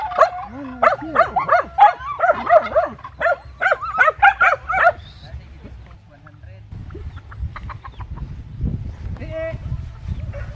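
Several dogs bark and yip in quick bursts nearby on a farm with goats, with talking and rustling after the barking fades.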